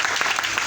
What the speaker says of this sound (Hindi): मैं उनके लिए जोरदार ताली चाहूंगा